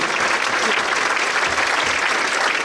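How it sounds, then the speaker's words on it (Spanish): Strong applause from a church congregation, a thick continuous wash of many clapping hands filling the room, steady throughout. "Démosle palmas muy fuertes al Señor."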